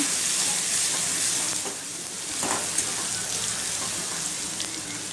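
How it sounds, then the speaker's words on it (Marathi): Ground green chili and garlic sautéing in oil over a low flame, giving a steady, fairly loud hiss of frying that runs the whole time with a few brief scraping stirs. "वाटलेली हिरवी मिरची आणि लसूण जे आहे ते त्यामध्ये घालून घ्यायचं आणि मंद गॅसवरती थोडं वेळ परतून घ्यायचं।"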